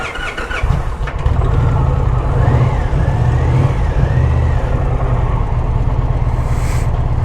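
An Indian Challenger motorcycle engine runs on a dyno, catching and settling into a loud, steady rumble with a slight rising and falling rev, close and continuous, with no talk.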